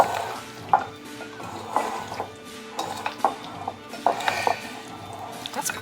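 A spoon stirring cherries with lemon juice in a bowl, soft wet squelching with light irregular clinks against the bowl, quiet and close, with a voice speaking faintly underneath.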